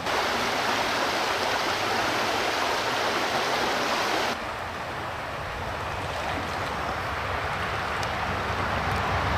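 Rapids on a trout creek in Fulton, Pennsylvania, rush in a steady, close, loud broadband wash of flowing water. The roar dips slightly partway through and then carries on unbroken, with no voices.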